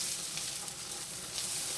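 T-bone steaks frying in a pan on medium heat, a dense, even hiss of sizzling fat held steady at close range with no talk.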